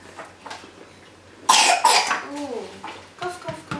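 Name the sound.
child coughing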